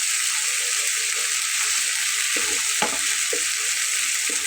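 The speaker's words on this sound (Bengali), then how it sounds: "মশলাটা একদম ভাজা ভাজা হচ্ছে।" Spice paste frying in a pan for a Bengali pabda fish curry gives a steady, close, bright sizzle throughout, with a few soft scraping thuds from stirring near the end.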